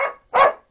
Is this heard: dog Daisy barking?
yes